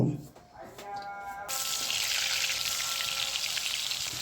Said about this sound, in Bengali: গোস্ত ফ্রাই করে নিব